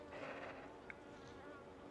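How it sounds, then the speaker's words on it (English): Mountain honeybees around a beekeeper at a hive in a remote cabin apiary, a faint steady swarm hum with individual bees whining close past, continuous and quiet. "These mountain bees"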